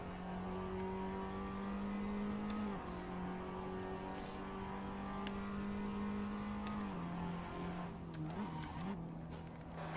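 Tatuus FA01 race car engine in Assetto Corsa at Laguna Seca, a steady droning tone at an even pitch that dips briefly as the revs change, quiet and continuous without speech.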